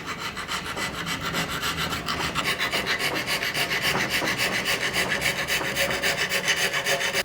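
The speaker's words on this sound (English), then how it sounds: "we have the bevel mostly established with the file" Hand file rasping along the primary bevel of a knife blade made from reclaimed sawmill steel, a loud continuous scraping with a fast regular back-and-forth stroke rhythm and no speech.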